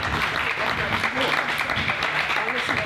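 Applause for the winner at the final press conference of the Pau CCI5* eventing competition in 2025, a dense steady patter of clapping lasting the whole moment with voices mixed in underneath.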